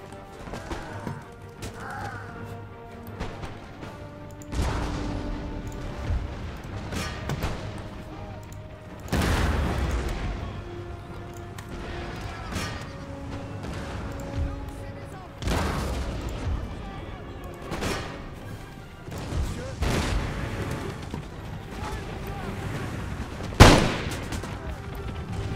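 Cannon blasts of canister shot from artillery in the Empire Total War battle, a scattered series of booms and crackling musketry spread across the scene, some near and loud, others distant, with a sharp peak late on.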